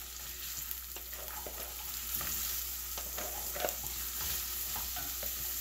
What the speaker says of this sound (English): my oil is hot. It's boiling. I'm gonna put the onions in.